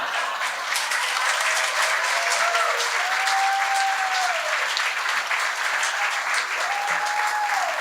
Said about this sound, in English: Let's give Kim a big round of applause.